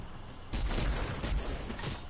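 Rapid video game gunfire aimed at a tree, a dense burst of loud shots starting abruptly and continuing steadily with little pause, close and full over a busy game soundscape.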